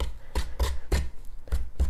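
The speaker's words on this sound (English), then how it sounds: "So I'm just using my pastry blender today." Pastry blender cutting shortening into flour for cinnamon biscuits, a series of six dull, muffled chopping thuds in a steady rhythm, close up and alone.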